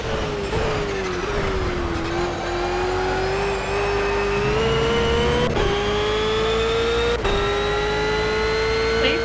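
In the racing game Project Cars, a race car's engine drones loudly and steadily throughout, climbing slowly in pitch through the gears with brief drops and a couple of sharp ticks.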